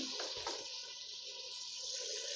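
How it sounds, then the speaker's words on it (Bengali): Water being poured into a pot of chicken for biryani, a short soft splashing stream that runs steadily for a couple of seconds, faint and without talk. "এখানে জল দিয়ে দেবো খুব বেশি জল দেবো না"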